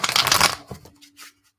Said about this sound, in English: I am going to just give this a little shuffle just because.